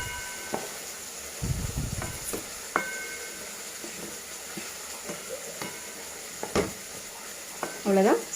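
A spoon stirs a raw banana stir fry with chopped coriander leaves in a pan after the stove is switched off, making intermittent scrapes and knocks over a soft lingering sizzle, with a brief clatter at the end.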